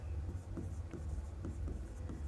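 Writing on a board during a biology lecture, a faint run of quick scratching strokes in a steady rhythm against a low background hum.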